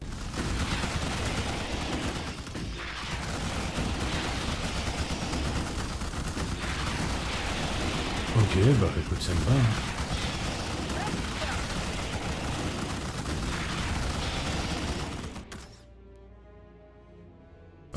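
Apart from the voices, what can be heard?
gunfire in video game Starship Troopers: Terran Command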